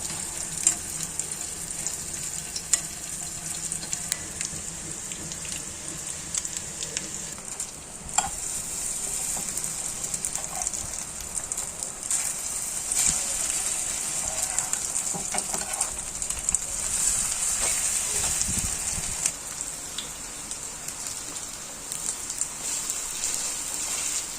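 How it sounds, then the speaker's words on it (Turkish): Steady, loud sizzling of stale bread frying in hot oil, crackling continuously throughout with occasional small pops. "Isıttığımız yağda arkalı önlü iyice kızartıyoruz."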